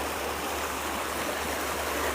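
A calm river flows through woodland, giving a steady, even wash of running water that stays constant and close, with no voices over it.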